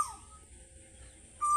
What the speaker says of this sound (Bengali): এই বসন্তের সময় খুব সুন্দর কোকিলের ডাক শুনতে পাওয়া যায়